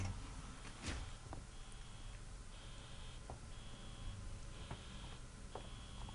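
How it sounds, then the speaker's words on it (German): Repeated electronic alarm beeps from the survival horror game Alien: Isolation, short high tones pulsing at a steady rhythm over a dense, noisy in-game background with occasional clicks. "warum löse ich jedes Mal ein Alarm aus"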